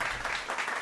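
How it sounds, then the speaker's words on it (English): Brief, dense applause from a group of people, a continuous crackle of many hands clapping at moderate loudness. "round of applause for sure"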